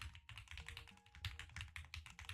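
Rapid computer keyboard typing close to the microphone during a livestream, bursts of crisp keystrokes with brief pauses between them.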